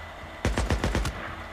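A quick burst of about five gunshots in the game Days Gone fires in rapid succession, close and loud, then stops.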